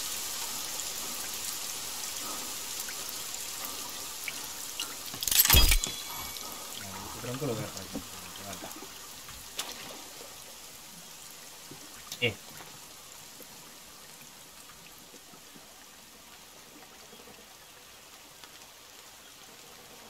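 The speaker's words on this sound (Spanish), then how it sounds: "Se oye muchísimo la lluvia" Heavy rain falls steadily in the survival video game The Forest, a constant hiss of downpour running the whole time beneath someone speaking, with a few brief louder thumps and clicks standing out.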